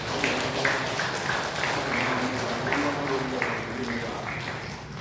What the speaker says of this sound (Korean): 우리 하나님께 감사와 찬송과 영광의 박수 올려드리겠습니다.